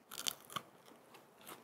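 Crisp crunching bites into roasted potatoes cooked in butter, two sharp close crunches in quick succession followed by softer chewing, with no talk.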